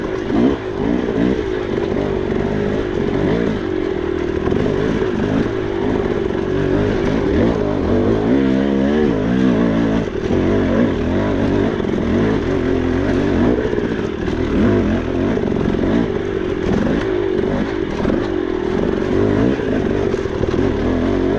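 A dirt bike engine roars steadily while riding on a long, hard trail day, loud and continuous with rough clattering and rumbling from the terrain throughout.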